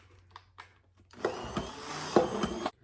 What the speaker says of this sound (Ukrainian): Тепер ми його ще раз блендимо чуть-чуть.